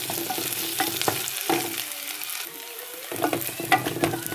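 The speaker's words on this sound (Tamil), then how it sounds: "வெங்காயம் பச்சை மிளகாயை போடுவோம் வதங்கி" Onions and green chilies sautéing in a pan for a squid and potato curry, a bright crackling sizzle with repeated scrapes and clacks of stirring, a brief quieter lull in the middle.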